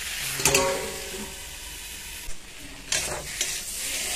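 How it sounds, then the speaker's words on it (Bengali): Brinjal and potato sautéing in a pan for a fish curry, a soft steady sizzle broken by a few short bursts of spatula scraping and stirring, fairly quiet and close. "বেগুন আর আলু ভালো মতো কষানো হয়ে গেছে"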